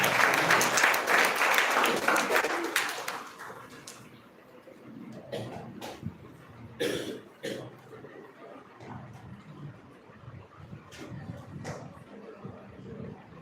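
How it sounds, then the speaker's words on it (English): Audience applause welcoming the chairman at a live nursing college session, a dense loud burst of clapping for the first few seconds that thins into scattered claps and murmuring voices. "let us welcome him with a big round of applause"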